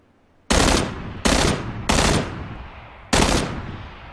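Four loud, close gunshots from the video game PUBG boom out at uneven intervals, each ringing briefly before fading, with no talk over them.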